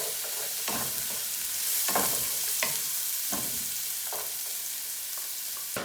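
Garlic sizzles in oil in a pan for a miso carbonara, a steady hiss broken by several sharp scraping stirs at irregular intervals, close and moderately quiet with no voices.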